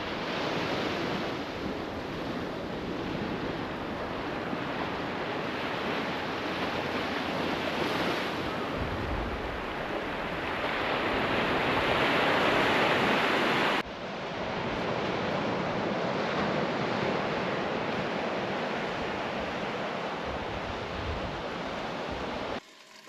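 Ocean surf and wind roar steadily along a beach at St. Joe Peninsula State Park, a dense continuous wash with gusts buffeting the microphone, loud and unbroken for the whole stretch.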